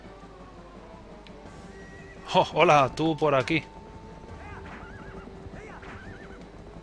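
Link's horse whinnies in The Legend of Zelda: Twilight Princess, a loud close run of neighs with hoof clip-clop, followed by fainter game sounds while someone talks.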